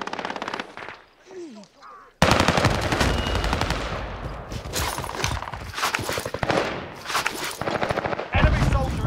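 Video-game gunfire from an XM4 rifle, loud rapid automatic bursts starting after a brief quiet stretch with faint voices, then continuing almost nonstop at close range with short gaps.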